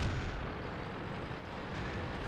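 A high-explosive shell hits in World of Tanks, a dull rumbling blast that decays into a low, steady roar for a couple of seconds with no voices.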